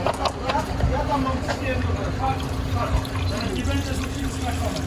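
Engine flushing liquid sloshes and pours into a Hyundai Terracan diesel engine with a steady watery gurgle, heard close up under background noise and some mumbled voices.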